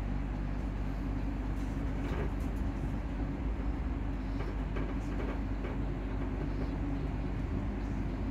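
A passenger train on the line through Armadale toward Blackridge and Helensburgh Central rumbles steadily throughout, a continuous low running roar with faint rattles and no speech over it.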